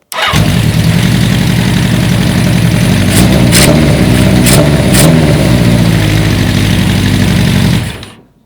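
An old school bobber motorcycle engine fires up and runs loud and close, a steady rough mid-pitched rumble with a few sharp throttle blips partway through, then it cuts off abruptly near the end.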